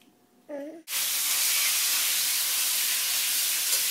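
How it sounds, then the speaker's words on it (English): Ground pork hits hot oil in a wok for ma po tofu, setting off a loud, steady, close sizzle that continues unbroken, just after a brief voice. "So you've got the pork in the wok"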